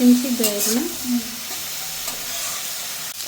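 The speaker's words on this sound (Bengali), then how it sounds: "আমি সব কিছু মিশিয়ে নেবো গুঁড়া মশলার সাথে চিংড়া" Shrimp stirred with ground spices in a pan, a steady sizzle and scraping stir running throughout, with a brief voice-like tone near the start.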